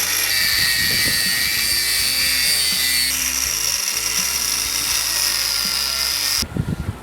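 An angle grinder cuts through rusted nuts on the prop shaft bolts of a Bedford CF van, a loud, steady high-pitched whine that shifts pitch partway through as it bites, then cuts off abruptly near the end.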